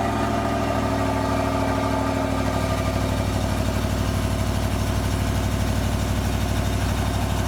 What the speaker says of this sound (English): Ronald started this truck, nice cold start, and she's just staying down in the 70s